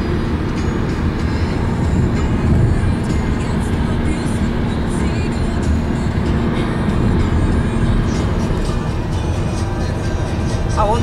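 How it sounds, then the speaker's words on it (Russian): A train rumbles past nearby in Leukerbad with a steady, loud roar of wheels on track, broadband and continuous throughout. "А вот железная дорога идет рядышком. Да, вот здесь идет поезд."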